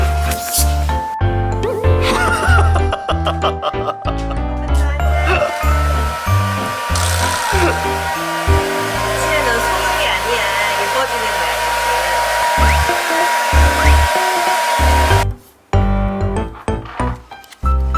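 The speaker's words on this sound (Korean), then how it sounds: "드라이기가 있지." A hair dryer whirs loudly and steadily while drying a dog after a bath, broken by rapid clatter and jingling sounds and speech, then switches off near the end.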